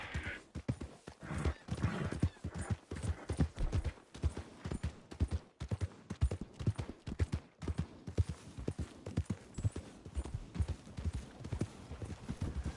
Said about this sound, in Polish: Mamy konia, Wiesław się nazywa.